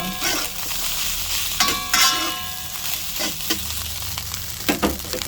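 Homemade fried rice with scrambled egg sizzles continuously in a pan, with intermittent scraping and knocking strokes as it is mixed up close, with no voices.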